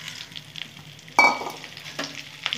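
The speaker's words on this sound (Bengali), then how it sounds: "বেগুনগুলো ভেজে নেব।" Eggplant slices frying in hot oil, a soft steady sizzle with a sharper burst of spatter near the middle and a few light clinks after, no voices.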